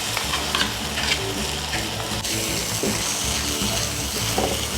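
Ginger garlic paste fries in a pan for an onion masala curry, giving a dense, continuous sizzle close up with light stirring scrapes throughout; no talking.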